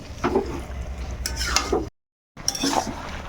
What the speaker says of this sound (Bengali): এই মশলার সঙ্গে আমি মাংসটা বেশ ভালো করে কষাবো